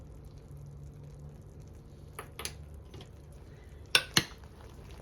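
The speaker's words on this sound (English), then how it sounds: "Give it another stir." Apple butter stirred in a crock pot gives a few soft scrapes and then two sharp clinks of a utensil against the pot, quiet and close, with no talk.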